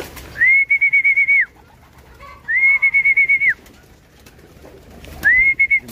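Imported pigeons at a crowded pigeon market in Valenzuela give three loud, close, sustained calls, each a steady pulsing tone lasting about a second, with short quiet gaps between them.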